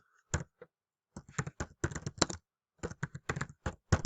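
Keys on a computer keyboard are typed in short, uneven bursts of close, crisp clicks separated by brief pauses, with no talking.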